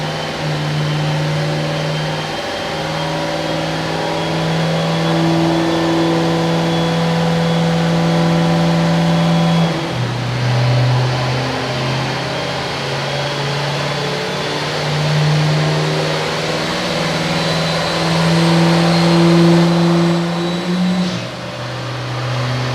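A Duramax diesel truck engine drones steadily on a dyno at a competition event, its loud, continuous low hum climbing gradually in pitch with small dips as the revs build toward the RPM window.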